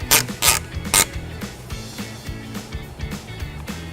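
A ratchet strap on a Thule DoubleTrack Pro 2 bike rack is fed through the wheel spokes and cranked tight, producing sharp plastic snaps early on, then a run of close, rhythmic ratcheting clicks.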